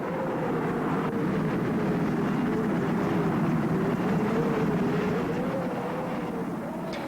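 An XV-15 tilt-rotor aircraft with its rotors tilted forward as propellers flies in fast turboprop mode, giving a steady, loud droning engine roar with a wavering tone that holds throughout.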